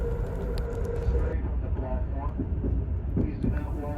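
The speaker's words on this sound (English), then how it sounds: "Leaving the suburbs behind, the train races through the rural farmlands of Illinois." An Amtrak Southwest Chief passenger train runs through rural Illinois farmland, a steady, full rumble of rolling wheels and carriage noise that continues without a break.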